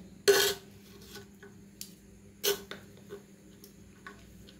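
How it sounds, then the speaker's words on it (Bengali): Fried rice is stirred in a pan with a spatula, giving a few sharp metallic scrapes and clinks at irregular intervals between quiet pauses, close and moderately loud, with no talking. "এবার পুরোটাই আমাকে এইভাবে রাইসটাকে নাড়াচাড়া করতে হবে।"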